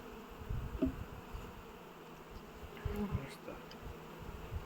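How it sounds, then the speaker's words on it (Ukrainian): Young honeybees buzz softly around at close range, with faint humming rising and falling as individual insects pass near. "це бджола молода"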